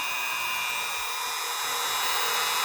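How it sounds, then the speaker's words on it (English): A drill bit bores through the resin head of an action figure with a steady, high-pitched whine, continuous and close. "The drill bit should cut right through this resin really easily."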